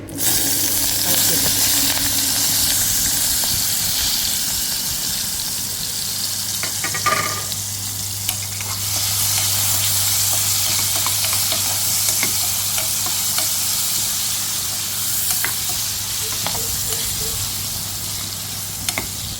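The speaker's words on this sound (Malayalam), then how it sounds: "ഒരു പാനിൽ കുറച്ച് വെളിച്ചെണ്ണ ഒഴിച്ചിട്ടുണ്ട് കേട്ടോ അതിലേക്ക് ചെറുതായി അരിഞ്ഞു വെച്ചിരിക്കുന്ന മാമ്പഴവും രണ്ട് പച്ചമുളകും കൂടെ നമുക്കൊന്ന്" Ripe mango pieces and green chillies frying in coconut oil in a pan, a loud continuous sizzle with occasional stirring scrapes, close up throughout.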